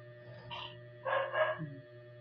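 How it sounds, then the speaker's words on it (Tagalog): A dog barks a few times in short bursts, fairly close, over a steady low electrical hum, with no one talking. "Ingay yung aso."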